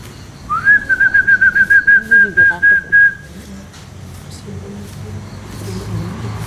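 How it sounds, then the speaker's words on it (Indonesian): A shrill whistle sounds in a rapid run of about a dozen short pulses on one pitch, over traffic rumble and faint voices. "ada siul kencang tuh, tapi jauh"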